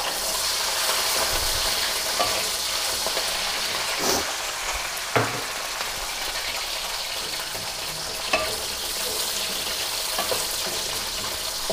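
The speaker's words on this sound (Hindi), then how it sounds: "ऑयल गर्म हो गया, छोटे छोटे बबल बन रहे हैं।" Hot oil bubbles and sizzles in a pan, a loud continuous frying hiss close by with a few soft clinks and scrapes scattered through.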